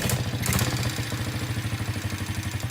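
A dirt bike fitted with a homemade welded silencer starts up and settles into a muffled, steady idle. The rhythmic engine thumps sound close and fairly subdued, with some mechanical clatter over them.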